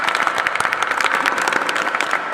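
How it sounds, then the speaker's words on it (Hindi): A crowd at a Buddhist wedding ceremony claps for the bride, a dense, loud burst of applause that holds steady from start to finish. "ताली बजा दो बेटी के लिए।"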